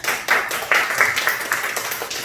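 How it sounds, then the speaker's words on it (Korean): A church congregation claps for parents, a brief burst of quick, fairly close hand claps in a loose, uneven rhythm that stays steady for a couple of seconds with no voices. "박수 합시다"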